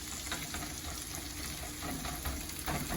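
Rice fries in a hot pan, with a dense, steady sizzle that stays loud and continuous, mixed with faint stirring scrapes and no talking.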